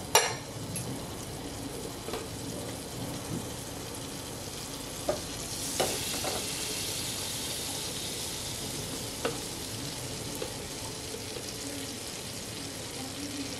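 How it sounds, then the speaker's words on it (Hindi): Butter and flour stirred and roasted together in a pan for white sauce give a steady soft sizzle with scraping strokes and a few sharper utensil clicks, fairly faint and continuous throughout. "अच्छे से हमें इसे मिक्स करते हुए भूनना है"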